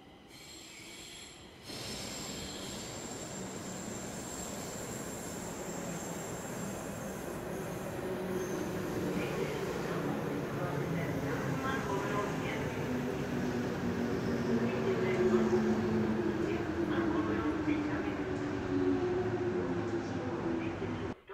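A passenger train rolls past steadily, with a low rumble, wheel clatter and a long metallic squeal rising over it. It is loud and continuous once it starts, after a brief quieter opening.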